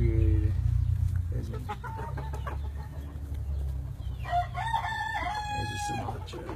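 A backyard flock of chickens, including Sumatras, with a rooster crowing loudly and close over steady low clucking and background hum, and a voice talking briefly.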